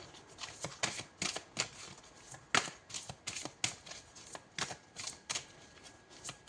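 Tarot cards are drawn and shuffled close up in a quiet room, a series of crisp papery riffles and slaps arriving in uneven bursts.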